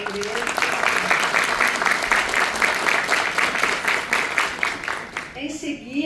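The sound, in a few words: audience applause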